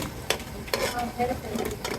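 Snacks frying in a pan of oil give a soft continuous sizzle, broken by several sharp scraping stirs from a spoon against the pan, all fairly close.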